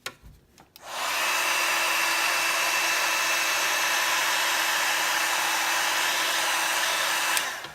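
A heat tool for heat embossing blows after a short start, a steady loud hiss and whine that runs without a break for about six seconds and then cuts off.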